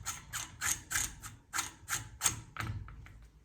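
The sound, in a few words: tightening AR-15 castle nut on buffer tube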